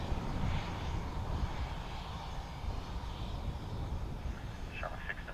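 A Ryanair airliner arriving at Dublin Airport from Stockholm makes a low, rumbling engine drone at a distance, steady under faint background noise and speech that sounds like a radio.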